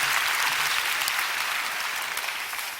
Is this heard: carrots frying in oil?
no